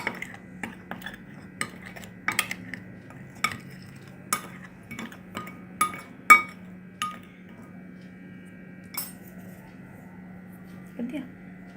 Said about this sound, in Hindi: इसको एक बार मिक्स कर दीजिए।